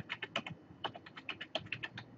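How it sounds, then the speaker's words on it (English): Quick, irregular clatter of keys being typed on a computer keyboard, close and fairly quiet, with short bursts of strokes and brief pauses over a couple of seconds. "I'm just going to type in"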